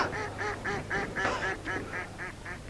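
A group of ducks quacks in a rapid, regular series of loud calls nearby at a castle moat, agitated after being startled, with no talk.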